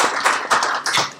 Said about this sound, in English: that deserves a huge round of applause